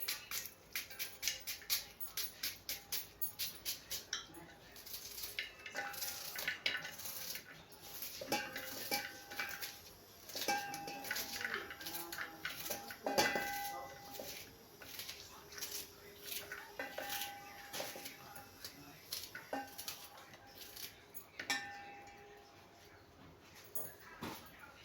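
A knife chops onion on a cutting board in a home kitchen, a long run of sharp, irregular taps with occasional dish and utensil clatter and faint background sounds.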